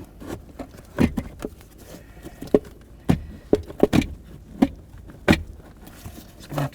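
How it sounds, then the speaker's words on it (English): Blower motor cage on a 2000-2005 Buick LeSabre being worked loose and twisted out, an irregular series of close plastic knocks, clunks and scrapes with brief quiet gaps between. "the cage for the blower motor needs to come down and through the box"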